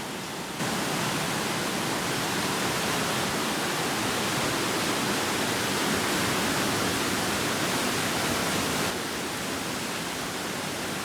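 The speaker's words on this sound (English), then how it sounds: "The sound of the river is so loud tonight" A loud, steady roar of a rain-swollen brook on the Appalachian Trail fills the whole clip with dense broadband noise and no pauses or voices.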